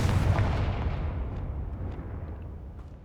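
Confringo blasting spell going off in Hogwarts Legacy, a loud booming blast that rolls out into a long rumbling decay over about three seconds, with no voices.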